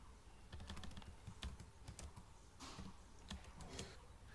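Someone types code on a computer keyboard in rapid, steady runs of close key clicks with brief pauses between bursts, no voice over it.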